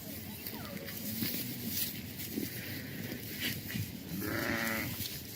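A sheep bleats once, fairly loud and near, toward the end, against a busy background of outdoor noise and a talking voice.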